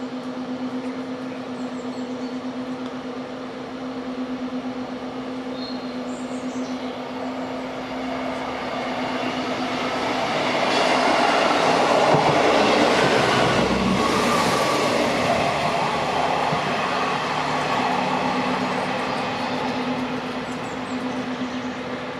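A non-stop train passing through the station at Wetheral, growing louder as it runs through and then receding, with a steady low hum throughout and rail rumble alone without voices.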